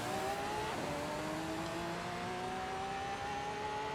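A race car in Forza Horizon 5 launches from a stop and revs up, the engine pitch climbing steadily and then dropping when the clutch is released, sustained and loud with no talking.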